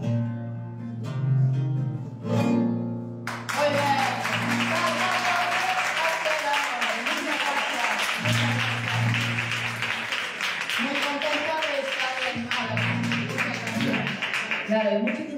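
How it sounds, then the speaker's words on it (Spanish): Audience applause at a live event in the Museo Revello de Toro in Málaga, a steady crowd of clapping that starts after a few seconds and continues alongside a voice speaking over it. "Un aplauso a"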